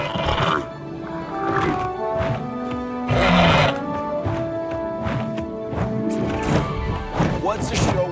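A Tapejara pterosaur in Jurassic World Evolution 2 gives shrill, whinny-like screeching calls amid thuds and rumbling park ambience, several calls spread across the stretch, with a voice talking over them.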